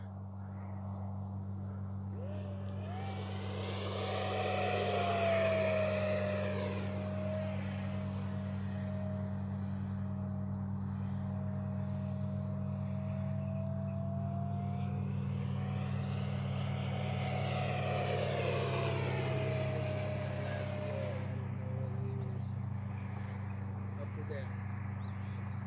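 A Freewing F9F-5 Panther RC jet flies overhead with a thin, steady whine that swells and fades twice as it passes, faint under a constant low hum and someone talking.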